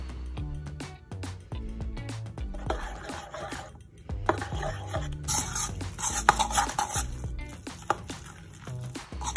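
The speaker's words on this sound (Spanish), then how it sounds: "Bueno, y ahora sí, vamos a mezclar todo esto" A spoon stirs vegan wholemeal fruit cake batter containing baking powder and baking soda in a bowl, with repeated scraping strokes and soft clacks against the sides, close and moderately quiet with brief pauses.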